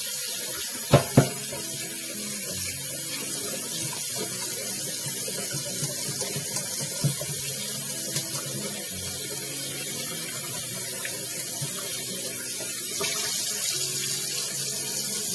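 Hot tap water runs steadily into a sink while a cast iron pan is washed, a continuous hiss and splash with a couple of brief clinks near the start.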